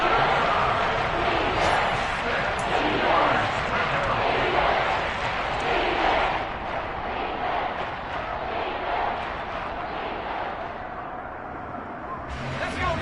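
A football stadium crowd roars in a steady, loud wash of cheering and babble during a one-possession game as a big third down approaches. An announcer talks over it.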